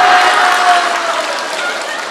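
An audience at a Buddhist dharma talk breaks into applause, a loud, close burst of many hands that tapers slightly over two seconds.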